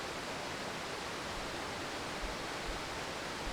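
A loud waterfall roars as a constant, dense wash of rushing water, even and unbroken throughout, heard up close with no other sounds standing out.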